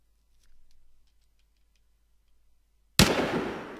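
A single sharp, loud gunshot bursts out near the end after near silence, with a long rumbling tail, in the multiplayer PvP video game Romero's Aftermath.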